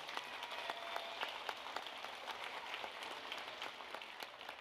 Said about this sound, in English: So could we give the city of Moreno Valley another round of applause?